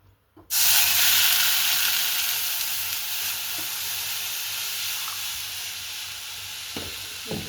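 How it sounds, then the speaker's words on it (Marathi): Milk hits hot ghee in a wok and erupts into a loud, sudden sizzle that then settles into a sustained, gradually easing hiss of frying, close up and with no voices. "आता कढईत तूप टाकलं, आता त्याच्यात दूध टाकते."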